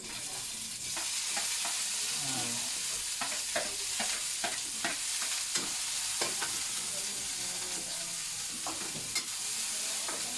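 Onions fry to golden brown in a pan for chicken sinampalukan, giving a soft steady sizzle broken by light scraping and clicking of a utensil stirring at uneven intervals.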